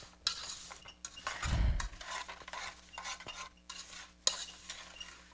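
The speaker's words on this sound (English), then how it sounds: "I'm just going to stir it up." Strawberries cooking in a pot with sugar are stirred with a utensil, giving scraping, clinking strokes with a faint sizzle beneath and a brief low thud midway, all quiet and close.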